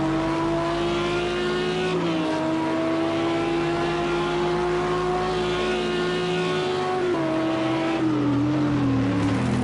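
GT3 race cars, a Lamborghini Murcielago among them, charging toward a hairpin, with loud sustained engine wail and shifting pitch as revs change, heard continuously and close throughout.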